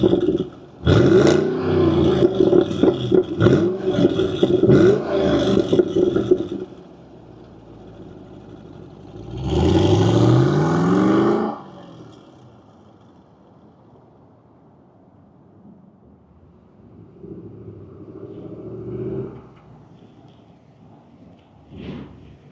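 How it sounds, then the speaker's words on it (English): The V8 engine of a 2017 Chevrolet SS sedan fires up with a loud, rough roar, then settles to a rumble before a second strong rev swells and fades to a quieter idle. "I want to fire up this V8 and hear its roar."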